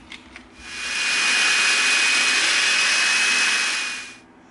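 A drill bit bores through EVA foam while a Battlefront shock grenade prop is being built: a loud, steady high-pitched whirring grind that lasts about three and a half seconds and then stops, with no talking.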